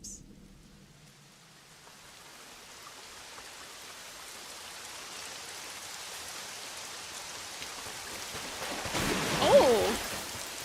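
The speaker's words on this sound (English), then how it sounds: "Raindrops." Steady rain hisses through a dark fantasy game world in Elden Ring Nightreign, a soft broadband wash that builds gradually and swells briefly near the end.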